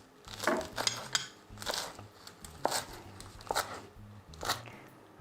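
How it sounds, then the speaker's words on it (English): Arugula being chopped with a knife on a chopping board, a run of crisp irregular cutting thuds and crunches close up, with no talking. "or you could chop them up like this."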